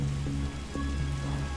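Steady rain falls throughout a scene in the video game Darkside Detective, a constant close wash of patter with a low rumbling bed and faint tonal hum, with no voices.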